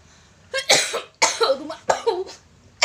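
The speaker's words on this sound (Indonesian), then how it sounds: "Jadi batuk." Three harsh coughs in quick succession, close and loud, followed by the start of a fourth.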